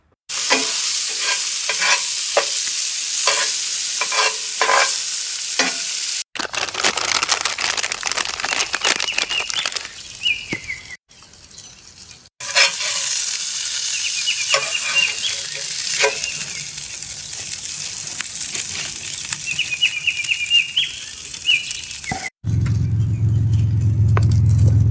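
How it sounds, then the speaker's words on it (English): A half-pound cheeseburger and leftover home fries fry at a campsite, giving a loud, constant sizzle broken by a few sharp cuts and stirring scrapes, with a brief quieter stretch midway. "half-pound cheeseburger, a little bit of leftover home fries from the last night"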